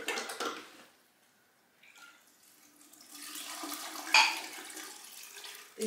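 Brine poured over fermenting beetroot and cucumber in a jar makes a soft splashing, gurgling pour, quiet at first with a brief pause, then a fuller stream of liquid near the end.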